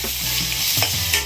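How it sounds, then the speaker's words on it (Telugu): Turmeric and spices fry in a pan for egg rice, giving a continuous hissing sizzle while a utensil stirs and scrapes in short strokes close by. "ఇలా కలపెడుతూ ఉండాలి, లేదంటే మాడిపోతుంది కదండి."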